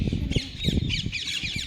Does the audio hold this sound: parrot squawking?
yes